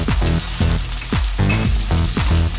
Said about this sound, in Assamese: এতিয়া লৰাই থাকিব লাগিব অলপ টাইম। আধা ভজা হোৱালৈকে লৰাই থাকিব লাগিব